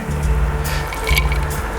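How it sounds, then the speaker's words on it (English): A drink is poured over ice outdoors, a steady liquid splash and fill running close and loud, with a low mechanical hum beneath. "Don't be shy with the pour."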